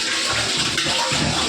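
Cooked meat for biryani is poured from one pot into another, making a short, steady, close-up sloshing rush of liquid and pieces sliding out.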